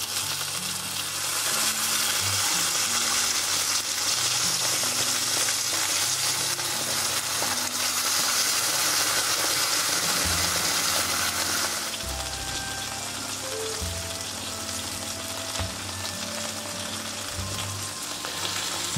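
Marbled Australian sirloin steak sizzles loudly and steadily on a hot plate, a dense continuous frying hiss with occasional pops, no talking.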